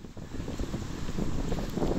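Strong wind buffets a smartphone microphone outdoors, producing a continuous loud, rumbling roar that fills the whole stretch without pause, with no voices present.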